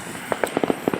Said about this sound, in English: It's a good fireworks though.